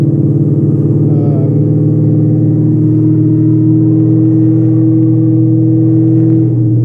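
A cammed Ford Mustang Cobra with a Borla ATAK exhaust hums with a steady, loud idle and a few gentle revs, a deep continuous drone with no talking.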